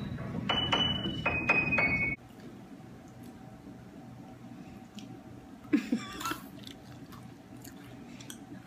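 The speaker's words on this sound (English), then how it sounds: "We're just chewing away." Close, moist chewing of food with soft rhythmic mouth sounds, a few louder clicks early on and scattered bites later, under a steady low hum.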